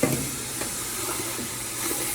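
Steam hissing steadily from a hot stock pot after tomato juice is added during vegan soup making, a close, continuous broadband hiss with faint bubbling underneath and no talking.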